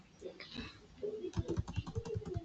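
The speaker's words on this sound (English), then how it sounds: "in my keyboard. I'll just click the arrows only, left and right." Arrow keys on a computer keyboard are tapped in a quick run of about eight crisp, evenly spaced clicks during graphic design work, preceded by softer faint handling noise.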